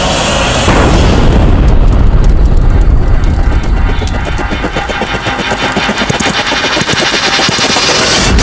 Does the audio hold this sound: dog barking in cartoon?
no